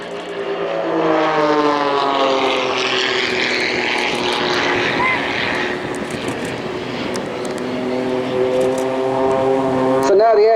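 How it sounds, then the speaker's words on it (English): A Jet Pitts aerobatic biplane with a piston propeller and jet power drones overhead at Blackpool Airshow during low-fuel hovering manoeuvres, its engine tone rising and falling steadily for the whole stretch before swelling louder at the end. "So now the aircraft is getting very low on fuel, and now we can do more hovering manoeuvres."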